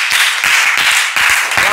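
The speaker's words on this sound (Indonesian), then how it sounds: "Tepuk tangan untuk kelompok 3" Short burst of clapping from a classroom group, a few quick uneven hand claps close by with a brisk, scattered rhythm.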